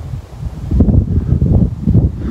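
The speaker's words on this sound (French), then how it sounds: "mais genre le vent il est chaud" Warm wind blowing outdoors, a steady low rumble of gusts buffeting the microphone with a slight swell partway through, continuous with no voices.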